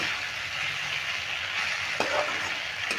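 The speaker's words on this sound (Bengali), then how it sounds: "এবার এইভাবে আমি পাঁচ মিনিট মতন নেড়ে নেড়ে রান্না করবো" Ivy gourd (kundri) and shrimp sizzle steadily in a pan, a constant close frying hiss with a few soft scraping stirs, no voices.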